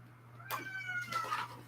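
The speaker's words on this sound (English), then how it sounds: "cat's crying because he can't see me" A cat crying with a few drawn-out meows, close and fairly loud over a steady low hum, no talking.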